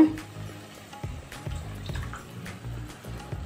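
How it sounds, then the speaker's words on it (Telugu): Water poured into a pan of fried onions for a taro root curry, an uneven run of close splashes and gurgles with a sharp start and intermittent pours. "ఇప్పుడు మనం ఎసరు పోస్తున్నాను."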